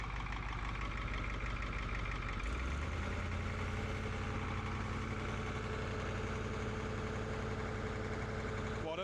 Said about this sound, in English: So V8 cat engine, Smoke comes as standard on these, but let me rev it up and you'll see what I mean.